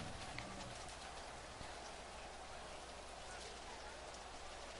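Steady rain hisses in the Maximum Football 2019 video game, a dense, even wash that runs unbroken from start to finish at low level.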